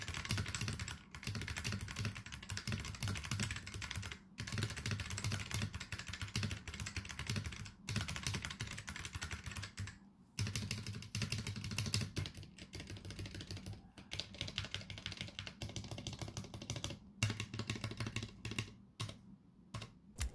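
A custom mechanical keyboard is typed on steadily for about twenty seconds, with dense, even clacking keystrokes, close up and alone, with a few short pauses.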